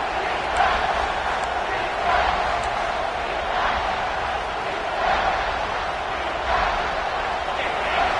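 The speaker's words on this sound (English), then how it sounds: "here comes the noise. This crowd is trying to inspire this defense" A big college football stadium crowd at Clemson roars loudly and continuously during a Georgia game, a dense wash of cheering and shouting that swells slightly in waves.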